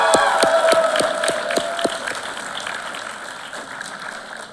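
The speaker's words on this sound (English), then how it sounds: "give a round of applause" Applause from a crowd at a graduation ceremony, with a few distinct claps standing out at first before fading into a softer, diffuse wash of clapping.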